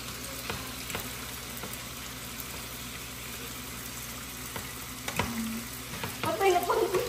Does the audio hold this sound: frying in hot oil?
yes